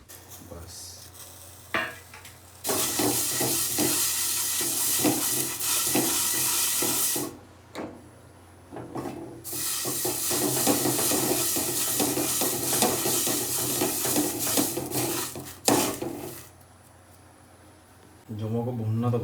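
Chillies and other food sizzle and fry in a pan as a spoon stirs and scrapes against the metal. Long loud stretches of sizzling are broken by brief pauses, with occasional talk.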